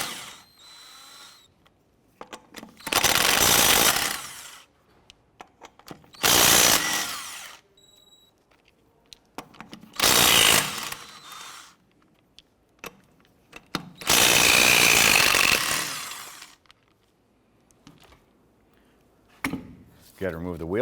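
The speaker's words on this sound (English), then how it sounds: "Using an 18mm socket, let's go ahead and remove the lug nuts." An impact wrench with an 18mm socket zips lug nuts off the wheel of a 1994-2004 Chevrolet S-10 in four loud, separate bursts of a second or two each, with quiet gaps between them.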